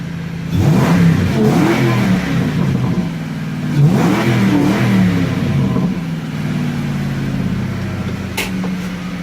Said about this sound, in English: Here's the exhaust now.